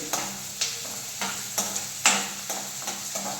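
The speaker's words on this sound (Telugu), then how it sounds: "ఉల్లిపాయలు బాగా ఫ్రై అవ్వాలి" Onions fry in a pan for a prawn and gongura curry, with a steady hiss broken by regular stirring strokes about every half second, close and moderately loud.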